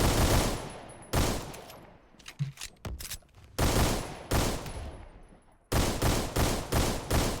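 Rapid bursts of G50 pistol gunfire in the Phantom Forces video game, loud and close, with clustered shots separated by brief pauses and a fast run of shots at the end.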